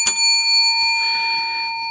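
A bell rung twice, a quick bright ding followed by a second strike, with ringing tones sustaining and fading; the strikes are close and fairly loud with no talking.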